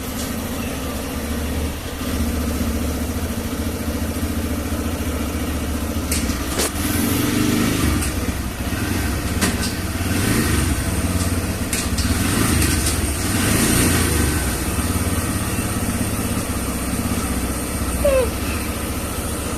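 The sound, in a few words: motorcycle engine started and idling after clutch adjustment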